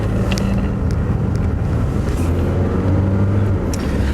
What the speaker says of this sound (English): Again, the engine sounds really good.